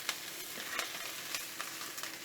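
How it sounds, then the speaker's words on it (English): Oyster mushrooms frying with ginger and garlic, seasoned with rock salt, crushed pepper and parsley, a soft continuous sizzle with light stirring taps, close and fairly quiet, no talking. "Mix and fry."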